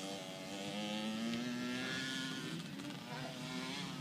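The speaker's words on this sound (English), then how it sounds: "hear them revs, hear how his bike sounds, he's in the right gear" A pit bike engine on a track hums and revs, its pitch rising and falling steadily, sounding a little distant and fairly quiet.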